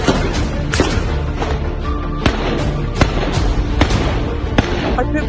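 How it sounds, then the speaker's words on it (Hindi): Sharp cracking reports of gunfire ring out repeatedly and irregularly amid street unrest, against a dense, noisy crowd background of murmuring and movement. "फायरिंग की आवाज आ रही"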